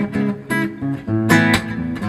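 Acoustic guitar playing measure 21 of a live acoustic song: a quick, syncopated run of plucked notes and chord hits, close, bright and unaccompanied.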